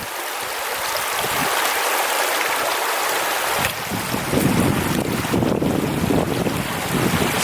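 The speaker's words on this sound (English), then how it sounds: "These are some pretty big water crossings." Fast, rushing river water at a hiking trail crossing on the Eagle Rock Loop, a broad steady roar that swells louder and closer midway, with gusts of wind buffeting the microphone.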